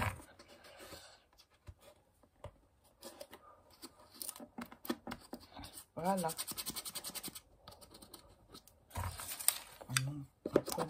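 Scissors cut paper cleanly, with bursts of close crisp scratchy snips and slides broken by pauses, while someone talks intermittently in French.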